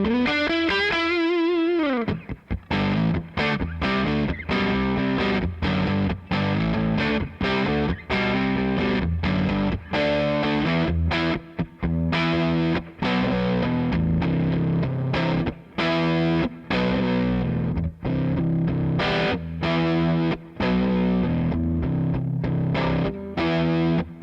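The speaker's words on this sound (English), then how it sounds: "So here's the way the neck pickup sounds." A Les Paul electric guitar is played on its neck humbucker pickup through a cranked amp, giving a thick, distorted tone with steady strummed chords and riffs that run continuously and loudly, alone with no talking.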